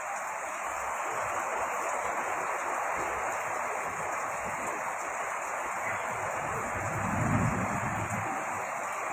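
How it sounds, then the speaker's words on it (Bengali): Heavy rain pours down in a storm at Kalibazar with gusting wind, a dense, steady hiss throughout, plus a low rumble swelling briefly toward the end, with no talking. "কালীবাজার প্রচুর বৃষ্টি, বাতাস এবং যে বজ্রপাত আমি দেখতেছি"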